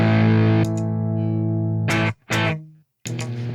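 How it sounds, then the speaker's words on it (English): An electric guitar plays through a tweed amp with heavy reverb: a sustained chord rings and decays into a long wash, followed by a few shorter strummed chords with audible reverb tails and brief silences between. "if I can't get less reverb than that, that's a lot. That's a lot, especially for like such an effecty reverb"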